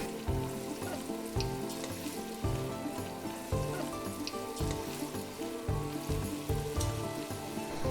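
Sourdough onion rings deep-frying in hot oil give a steady, fairly loud crackling sizzle that runs the whole time, with rhythmic background music underneath.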